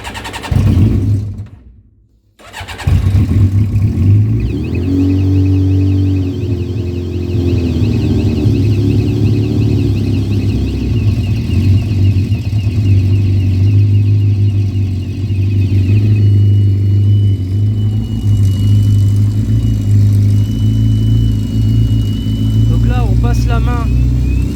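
A Yamaha XJ6 Diversion motorcycle engine, long unused, cranks and catches after a brief pause, then settles into a steady, loud idle with mild revving, close to the microphone, with a voice speaking over it.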